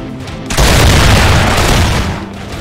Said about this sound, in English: The defenders of Blenheim would send volley after volley of hot lead directly into the oncoming British ranks